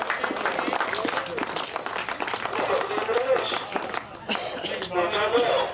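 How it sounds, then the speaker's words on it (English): Crowd applause and clapping at a grass track motorcycle race meeting, a dense steady patter of many hands continuing for several seconds with a voice talking over it. "Big round of applause for Don for a Clive."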